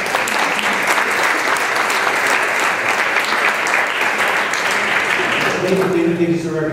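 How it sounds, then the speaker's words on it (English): Audience applause at a union co-op symposium keynote, loud dense clapping from a full room sustained throughout, with a voice emerging faintly as it tapers at the end. "Give her a big round of applause."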